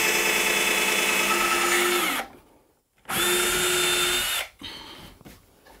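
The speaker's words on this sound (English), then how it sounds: "Then I'm going to go ahead and pre-drill these two" A power drill pre-drills holes in a camper kitchen drawer cabinet, running in two loud, steady bursts of about two seconds each with a short silent gap between them, then a softer brief whir as it winds down.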